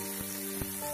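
Cut okra (bhindi) frying in a pan after cumin and mustard seeds have crackled, giving a brief continuous sizzle with a couple of soft pops.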